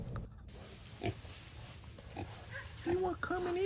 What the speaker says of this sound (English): I had no idea that I was going to have to wake my pigs up for breakfast